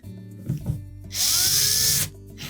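A power drill whirs for about a second, driving in a screw on a Whirlpool refrigerator door handle, close and loud, with brief handling knocks before it.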